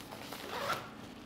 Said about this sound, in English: it has weatherproof zippers